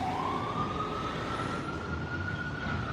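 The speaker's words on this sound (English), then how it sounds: "Ambulance." An ambulance siren wails on a New York City street, a single steady tone gliding slowly upward over a low rumble of traffic, moderately distant and alone without talk.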